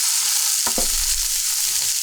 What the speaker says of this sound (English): I'll be cooking our pork over medium-high heat,